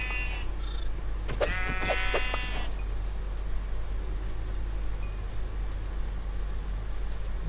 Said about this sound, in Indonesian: Nah, itu dia dombanya.